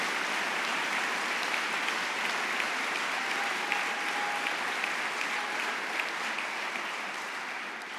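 A graduation audience applauds steadily and evenly, a dense sustained clapping heard close and alone from start to finish.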